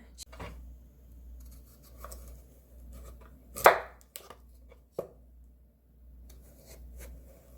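Quiet, sparse knife cuts tap against a board as a firm radish is scored crosswise for dongchimi, with one sharper slicing crunch midway and faint scraping in between.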